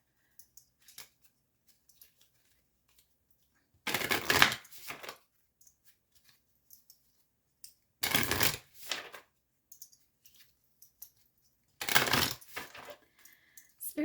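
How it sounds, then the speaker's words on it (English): A deck of oracle cards is shuffled by hand in three separate bursts of riffling and flicking, each a few seconds long, with quiet pauses between them. "Just going to shuffle this deck here."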